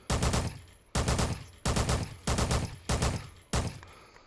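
Six loud gunshots ring out one by one at a steady pace in the sandbox video game Hard Bullet, each a sharp close blast with a short decaying tail.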